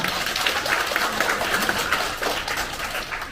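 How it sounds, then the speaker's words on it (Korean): A church congregation at a Sunday worship service gives a round of applause to God, a dense, continuous wash of many hands clapping at once, steady and fairly loud throughout. "다시 한번 하나님께 영광의 박수 올려드리겠습니다."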